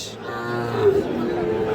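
A Sahiwal bull calf moos at a busy cattle market in Ghoraghat, Dinajpur, giving one long, drawn-out, fairly close call over a steady murmur of market noise.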